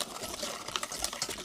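Water is poured a little at a time into a thick sawdust mixture, giving a faint, close trickling and splashing that flickers unevenly throughout, without talk.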